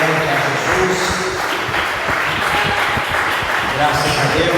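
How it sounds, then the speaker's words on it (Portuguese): A church congregation claps joyfully together for Jesus in a dense, sustained round of applause that fills the room steadily, with voices mixed in beneath the clapping. "desocupe a tua mão e dê uma salva de palmas alegre a Jesus"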